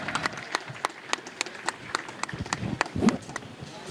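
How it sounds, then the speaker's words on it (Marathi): A small audience at a Riddhi Siddhi Paradise project launch event claps in scattered, uneven bursts, a sparse patter of hands that swells slightly near the end without anyone speaking. "जरा जोरदार टाळ्या होऊन जाऊया, जरा जोरदार टाळ्या."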